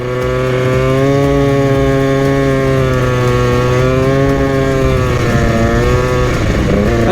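A Honda Pop 50cc motorcycle rides along a country road, its small engine buzzing loudly and steadily close by, with the pitch rising and falling gently as the throttle changes and no voices.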